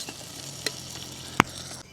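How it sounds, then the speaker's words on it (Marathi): Rice goes into a pot of sizzling tempered masala, a soft sizzle with a clink and a brief sharp knock against the pot, then quieter frying. "आता मस्त फोडणी देऊन तांदूळ टाकला आहे"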